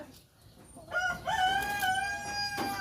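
A bamboo line rooster crows a clear, loud cock-a-doodle-doo close by, a single drawn-out call with a strained rising start and a long sustained tone, over faint farmyard background.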